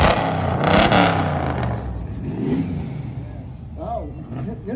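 A 1967 classic car's engine revs loudly up close at a festival parade, a surging roar that eases off into a lower idle while voices talk over it.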